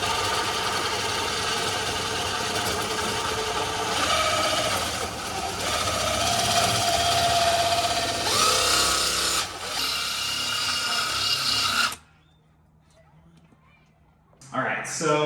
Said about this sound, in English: 2 hands on the drill, nice and gentle.